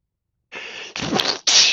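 A single close, loud sneeze, preceded by a couple of sharp sucking breaths, with nothing else around it.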